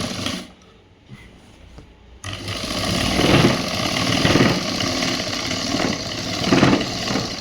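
A sewing machine stitches a government school uniform shirt. After a brief quiet pause, a steady motorized whirring runs continuously at close range, swelling slightly in spots, with no talking.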